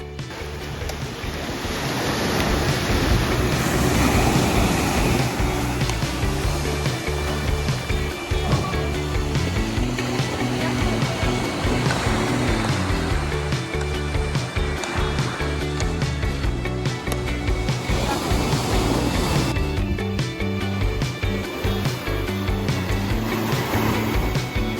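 Ocean waves break at a beach in Lagos in the Algarve, making a loud, continuous roar of surf mixed with wind rumble throughout, with no clear voices.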